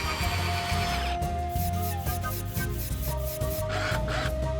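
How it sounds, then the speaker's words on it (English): A cheap electric screwdriver drives a run of screws into wooden boards, a steady motor whine with repeated pulses as each screw bites and turns, loud and close with no talking. "We start the stopwatch and drive 10 screws into the boards."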